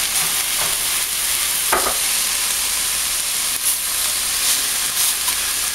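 Tilapia pieces stir-fry in a big pan, a steady hissing sizzle with a few scraping nudges as they are pushed around, close and without talk.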